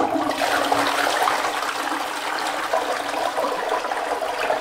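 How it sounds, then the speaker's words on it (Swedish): A toilet flushing in a small bathroom of a home in Torrevieja, a steady rushing, gurgling wash of water that runs loud and continuous from start to finish with no voices over it. "Då kan jag spola toan med."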